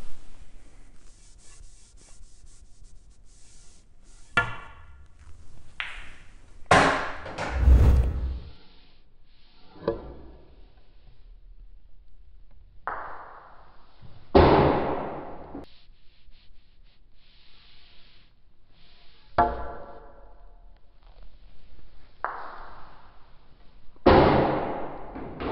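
Pool cue striking the cue ball in a drag shot, several sharp distinct clicks and clacks spaced seconds apart with quiet gaps between, close and fairly loud.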